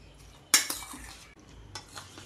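A spoon stirs a vegetable biryani mixture in a pot, with a sharp metallic clink at the start followed by a few softer scrapes and taps, close and without speech.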